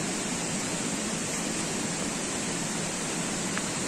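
River water flows steadily at the Mamey natural swimming spot in Mecatán, Nayarit, a continuous, even broadband rush with no pauses. Close and moderately loud, with no voices.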